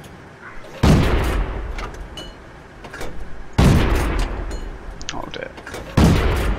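Self-propelled artillery shells landing near a BT-7 light tank in a tank battle video game, three loud, close booming impacts spaced a couple of seconds apart, with a short remark from a voice between them.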